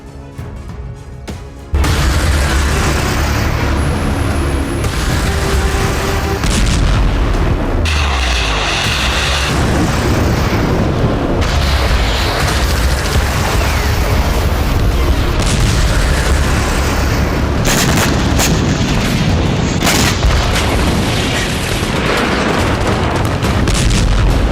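Heavy artillery fire and explosions from the war in Ukraine boom loudly and continuously, dense rolling blasts layered with rumble and no talk.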